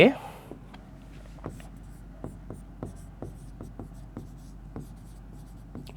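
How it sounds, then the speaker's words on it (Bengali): A pen writes a sentence on paper in short, repeated scratchy strokes, close and fairly quiet, with irregular pauses between words. "ধরো আমি একটা কথার কথা লিখছি"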